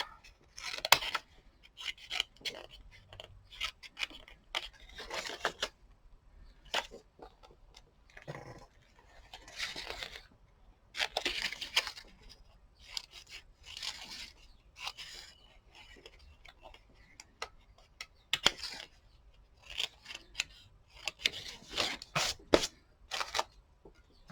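Scissors cut a paper cut-out of a woman's hair for an art journal page, giving a run of close, irregular snips and crisp paper rustles with short pauses between bursts.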